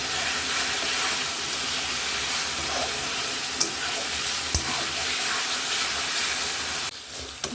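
Chana dal cooking with fat in a pan gives off a loud, continuous sizzle, with a couple of faint clinks and a short break near the end.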